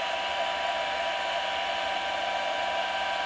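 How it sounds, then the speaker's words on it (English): A hair dryer blows steadily at close range over paint coats on a thinned poster, a constant loud whooshing hum that holds unchanged from start to finish with no talking. "It's going to get noisy. I'm going to turn the blow dryer on."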